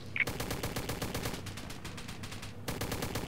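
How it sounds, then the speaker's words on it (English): Rapid automatic gunfire in the World War II shooter Easy Red 2, a steady stream of close, loud shots that break off briefly and then resume. "That was a pretty accurate shot."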